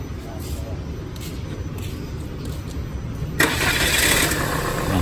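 A Peugeot 206 engine with a temperature-gauge fault, fitted with a replacement ECU, starts up. A low steady rumble jumps to a louder, brighter run near the end, close by.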